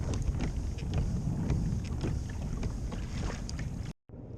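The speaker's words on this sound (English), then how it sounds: "we gotta get out of the harbor and start making the paddle out" A kayak heads out of a harbor, with steady water wash and rhythmic paddle strokes under constant wind rumble close to the microphone, ending in a brief dropout.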